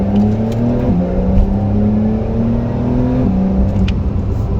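A 379-horsepower car accelerates hard from inside the cabin, its engine note climbing steadily with two brief gear-shift drops, a loud continuous whine and rumble with no talking.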